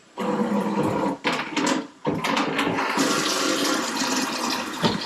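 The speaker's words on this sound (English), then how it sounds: "So I fill this up in the sink." Water runs steadily from a tap into a 2-gallon watering can in a kitchen sink, a loud continuous gush that breaks off briefly twice and then brightens as the can fills.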